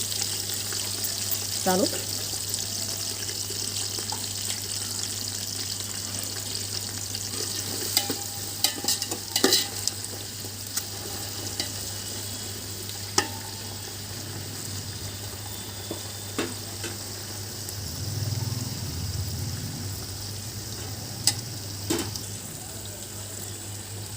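Half a kilo of onions fry in a pan for biryani, a continuous sizzle with scattered clinks and scrapes of stirring, close and steady, with a steady low hum underneath and a brief spoken word partway through.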